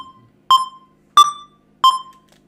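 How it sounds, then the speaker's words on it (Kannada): Three short, bright metronome beeps from FL Studio, evenly spaced about two-thirds of a second apart, clean and close with nothing else underneath. "ಬೀಪ್ ಬರ್ತೈತೆ ರೀ"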